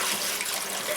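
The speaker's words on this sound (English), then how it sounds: "pour a little bit of the water out." Water poured out of a bucket holding range lead being processed, a steady, dense rush of splashing water, close and fairly loud, with no voices.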